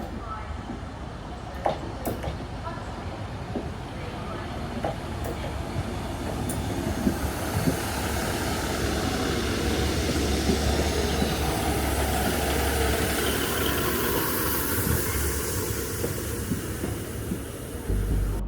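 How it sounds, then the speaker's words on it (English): A train rolls into a station with a rising, steady rumble and rushing noise, squealing faintly as it slows, with people talking in the background. "my train has just arrived now, a bit late"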